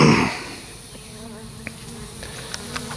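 Honey bees buzz steadily around a swarm trap during an outdoor hive inspection, a continuous close insect drone with a brief louder rustle at the start and a few faint clicks.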